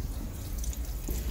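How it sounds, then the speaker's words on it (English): Water pours steadily from a modern sensor faucet into a bathroom sink, a continuous close splashing hiss with faint dripping. "All he does is put his hands up to the sink. And like that water just freshly comes out."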